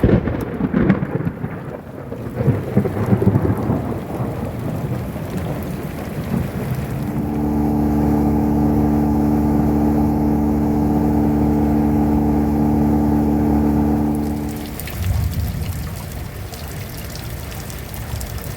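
A storm with wind of about 15 miles per hour and rain makes a steady broadband roar, with a droning, humming swell through the middle stretch that then eases off. No one speaks.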